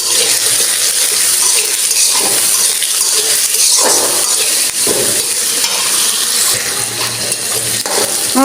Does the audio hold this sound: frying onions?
yes